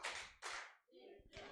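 Children clap in a church children's service, a few short bursts of clapping with brief pauses between them.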